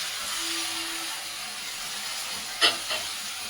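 A splash of water goes into vegetables frying in a pan for Bengali shukto, giving a steady, loud hiss that runs the whole time with a couple of brief clinks near the end.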